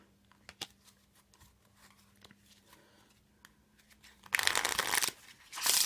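A Deep Deck of playing cards is riffled in a quick burst of crisp fluttering, then riffled again, preceded by light tapping and handling clicks.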